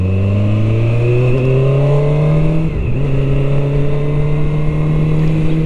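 QJ Motor SRK 921 RR motorcycle engine accelerating on the road, loud and close, its pitch climbing steadily, dropping briefly at a gear change, then rising again.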